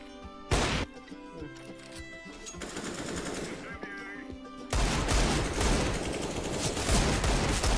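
Rapid automatic gunfire and single shots ring out in the CS:GO video game, loud bursts that drop out, then a dense sustained barrage in the second half, while a player's voice talks over it.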